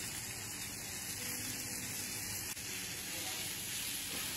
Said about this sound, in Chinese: 烤的滋滋冒油的牛肋条